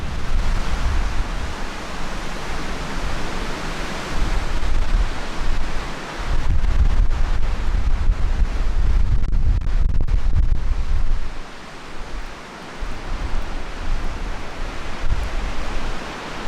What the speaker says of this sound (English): the stiff wind and the snow blowing sideways does not promise for a pleasant evening